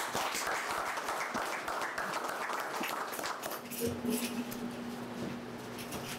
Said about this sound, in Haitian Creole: je vous demande d'applaudir encore à nouveau